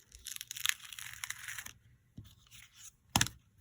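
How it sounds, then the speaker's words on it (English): A backing sheet is peeled off a handmade ink-blended cake card, giving a quiet, crinkly tearing rasp that runs for over a second, then shorter scraping rustles and one sharper crackle near the end. "I'm gonna peel this off."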